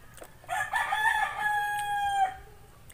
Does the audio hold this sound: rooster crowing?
yes